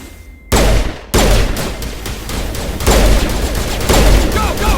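Heavy gunfire in a Mass Effect Legendary firefight: dense, loud bursts of shots and booms that start abruptly and keep going without a break, with a voice faintly under the din.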